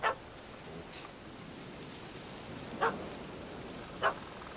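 A dog in The Witcher 3: Hearts of Stone gives three short barks, one at the start and two more a few seconds apart, each sharp but not loud over a quiet outdoor ambience.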